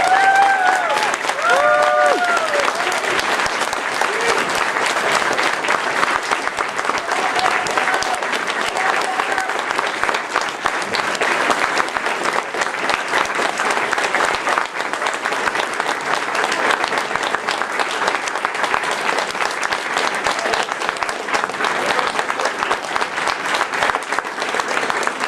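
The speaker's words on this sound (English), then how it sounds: "give the staff a round of applause" A convention audience at a closing ceremony gives the staff on stage a long, loud round of applause, dense and sustained, with some cheering and a few voices mixed in.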